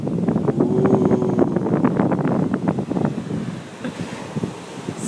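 Ocean waves crashing against rocks by the shore, with strong wind buffeting the microphone; a loud, continuous rush of surf and gusts that eases slightly toward the end.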